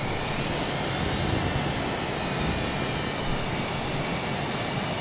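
A de Havilland Vampire FB 5 jet in Microsoft Flight Simulator gives a steady, broad engine roar with a faint high whine, constant and unbroken throughout.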